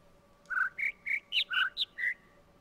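Synthetic bird calls from a jungle sound puzzle in the video game The Witness: seven clear, close chirps in a quick sequence, alternating between lower and higher pitches, over a faint steady hum with no talking.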